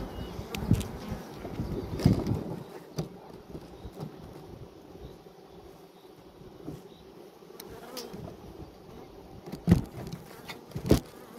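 Honeybees flying at a hive entrance, giving a continuous buzzing hum with individual bees droning close past the microphone in louder swells, along with occasional wind buffets and light knocks.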